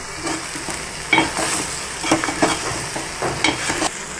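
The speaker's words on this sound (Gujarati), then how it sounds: "ચણાનો લોટ આપણો તેલમાં શેકાઈ જાય ત્યાં સુધી તેને રાખવાનો છે" Gram flour roasts in oil with green chilies in a pan, a soft steady sizzle with intermittent scraping strokes of a spoon stirring, close up and without talk.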